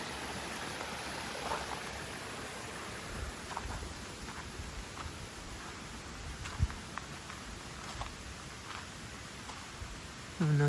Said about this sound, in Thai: มีน้ำไหลผ่านตรงนี้นะ ดูดิทุกคน เป็นน้ำใสเล็ก ๆ นะ